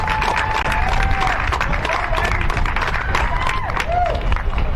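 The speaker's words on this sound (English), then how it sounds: "I ask you to give us a nice round of applause for the Barnett Super Street class" A crowd at a Chuckwalla Valley Raceway bagger motorcycle race applauds the podium winners of the Barnett Super Street class, with steady outdoor clapping and cheering throughout, alongside a faint whistling tone.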